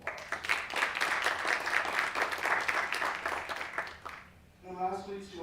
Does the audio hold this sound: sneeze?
no